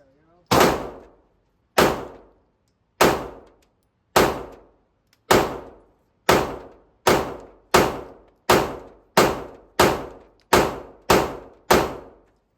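Ruger RXM handgun fired repeatedly, about fourteen sharp loud shots, the rate quickening toward the end, each ringing off steel targets with a decaying echo.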